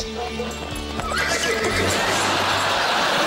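A horse neighs loudly and agitatedly, its shrill whinny rising over steady hoof clatter close by.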